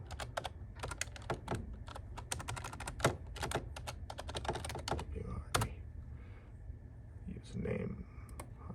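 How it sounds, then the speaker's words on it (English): Quick, uneven bursts of computer keyboard typing while logging in, crisp key clicks coming in clusters with short pauses, moderately close and fairly quiet against a low background hum. "I keyed in the right username"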